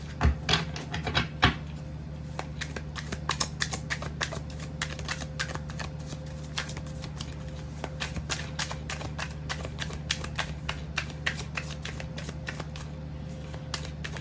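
Tarot cards shuffled steadily for a long stretch, a dense run of quick crisp riffling clicks over a low steady hum.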